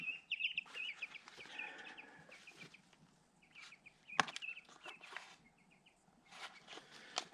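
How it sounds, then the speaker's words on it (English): Chickens at a wilderness homestead cluck and chatter close by in short bursts, with a sharp knock partway through. "They're cool, they're just dirty. They're birds. Dirty birds."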